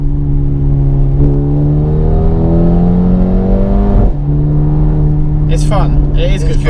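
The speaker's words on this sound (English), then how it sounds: "that overrun on the exhaust, I don't know if you can pick up on that" Mercedes A35 AMG engine and exhaust droning steadily under load while driving, the note rising then dropping around the four-second mark into overrun, with a person talking over it near the end.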